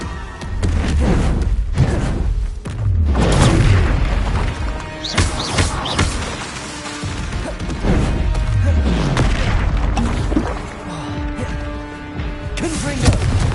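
Booming blasting-spell explosions from Hogwarts Legacy combat, repeated heavy thuds and crashes throughout amid continuous battle noise, loud and close, with voices calling out over the din.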